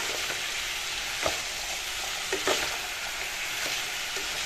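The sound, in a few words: stirring coriander and cumin powder in a frying pan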